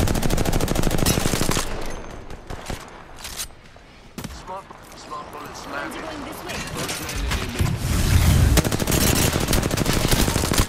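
Rapid automatic gunfire in an online shooter game, loud bursts at the start and end with a quieter stretch between, while players shout callouts over the shooting.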